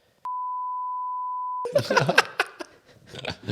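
A single steady censor beep tone cuts in sharply and holds for over a second, then stops abruptly as people burst into laughter and giggling nearby.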